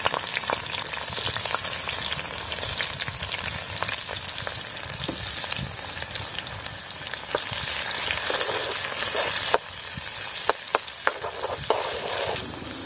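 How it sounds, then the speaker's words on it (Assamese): Two chopped onions dropped into hot oil, frying for a goroi fish curry, give a steady loud sizzle throughout with a few sharp stirring clinks near the end; no one talks. "মোৰ তেলটো গৰম হৈ গ'ল। এতিয়া কাটি থোৱা পিঁয়াজ দুটা দি দিম।"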